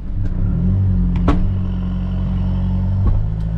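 Toyota Prado hire car driving along a soft sandy track after climbing a rock hill, with a steady loud engine rumble throughout and a couple of brief knocks, no voices.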